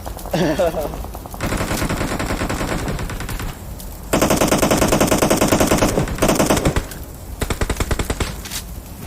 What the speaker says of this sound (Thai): ทำไมเขายิงกันเหลือเชื่อ